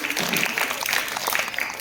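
A quiz competition audience breaks into a short burst of dense clapping, loud and close, filling the whole moment.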